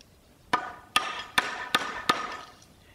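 A sharp chisel is driven into wood to chop out a mortise, giving five crisp, evenly spaced strikes that land close and clear over a quiet room.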